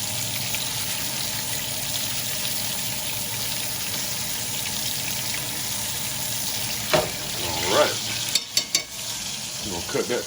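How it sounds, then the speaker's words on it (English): Pan-seared steaks sizzling steadily in a hot pan while being basted with butter and rosemary, a continuous frying hiss with a few clinks and scrapes of the spoon near the end. "So let's get the basting going again."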